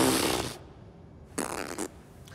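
A comedic fart sound effect: a loud, sputtering blast at the start, then after a short pause two further brief raspy bursts in quick succession, with no talking.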